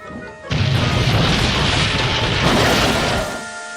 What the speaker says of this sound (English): Duck crashed off the rails and into a snowbank